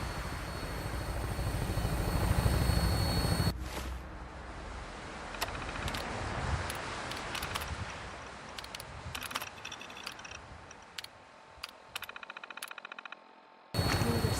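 A Vertibird aircraft in Fallout 4 flies with a steady, loud rotor and engine roar, then the cabin sound drops to a quieter drone broken by scattered sharp clicks and thuds before the roar returns.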